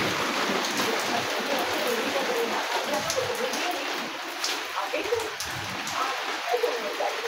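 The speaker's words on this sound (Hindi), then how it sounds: "बाहर कितनी तेज़ बारिश हो रही है" Heavy rain pours down outdoors in Lahore, a dense, steady hiss of drops hitting surfaces that stays loud and continuous throughout, with a voice speaking faintly beneath the downpour.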